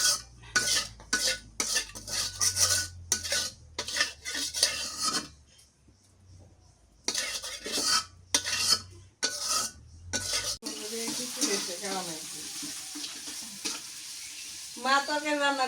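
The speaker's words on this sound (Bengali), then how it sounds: "আর আমি এখন ওই যে শাক ভাজি করি, পটল ভাজি করি।" Bottle gourd leaves and sliced pointed gourd stir-frying in a pan at a village home kitchen, with repeated scraping stirs and steady sizzling that pauses briefly, then a louder rushing sizzle near the end.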